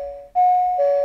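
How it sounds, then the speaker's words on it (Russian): An indoor electronic doorbell gives a short, clear ring: one tone fades, then a brighter, louder tone sounds and shifts slightly lower near the end, all within about a second. "Кто-то звонит в дверь."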